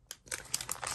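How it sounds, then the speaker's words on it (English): Plastic bakery bags printed with gingerbread figures and candy canes crinkle softly as they are handled, a brief, quiet burst of rustling crackles. "I also got these bakery bags with cute little gingerbreads and candy canes."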